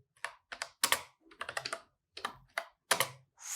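Typing on a computer keyboard while writing a comment in a Dart program: quick bursts of crisp key clicks with short pauses between them, close and clear, with no talking.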